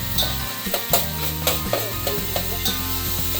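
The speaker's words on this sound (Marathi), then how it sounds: "तर हा कांदा आपला चांगला तेलात परतून झाला" Onion with curry leaves sautéing in hot oil for a chicken dish, a steady sizzle broken by repeated scraping stirs of a spatula in the pan, close and fairly loud with no talking.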